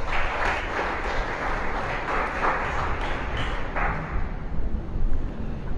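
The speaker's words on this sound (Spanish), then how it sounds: "Dale un aplauso." Congregation clapping during a church sermon, a rough, rumbling burst of applause heard through a noisy, booming room, steady for several seconds with some louder swells near the end.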